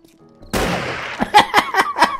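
A 12-gauge shotgun fires at close range in the horror video game Ravenhearst: one loud, sudden blast, followed by a quick series of sharp, punchy reports.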